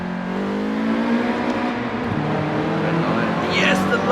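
A Nissan 240SX in the Forza Horizon 4 video game revs hard in first gear inside a tunnel, its engine tone climbing in a steady, droning rise.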